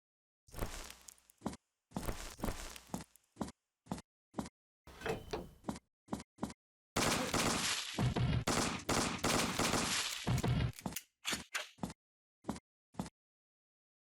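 SMG gunfire in the video game Affliction Rescue: rapid, close bursts of shots in uneven clusters separated by silent gaps, including one longer sustained volley, loud and with no talk over it.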